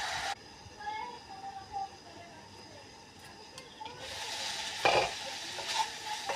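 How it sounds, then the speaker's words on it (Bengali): Prawns seasoned with salt, turmeric and Kashmiri chilli fry in hot oil with a soft crackling sizzle, louder bursts later as they are stirred. "মাছ ভাজা হয়ে গেছে, এখন মাছ ভাজা আমি নামাই নেব।"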